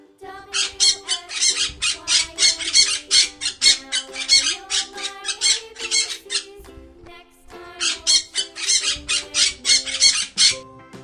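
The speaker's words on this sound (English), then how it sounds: "P for parrot." A parrot squawks in two long runs of quick, rhythmic, harsh bursts, layered over a bright melodic children's song tune.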